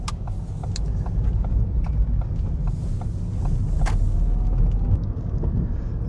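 A car pulling away from a mini roundabout, heard from inside as a steady low engine rumble and road noise that swells slightly as it moves off, with faint clicks and ticks over the top.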